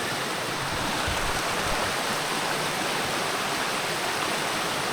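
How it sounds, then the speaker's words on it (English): A heavy flow of water pours down into a woodland brook, a steady broadband rush like a small waterfall, close and continuous with no voices. "So when the water's quite heavy, it will start coming down into the brook, and here it is."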